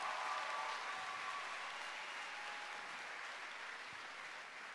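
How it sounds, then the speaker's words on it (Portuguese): An audience at a church gathering claps in a soft, even wash of applause that holds steady and fades slightly, heard at a distance without talking. "Pode aplaudir, pode aplaudir."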